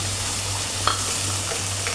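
Curry with coconut milk frying and being stirred in a pan, a steady close sizzling hiss with a low hum underneath and one brief scrape of the spoon partway through.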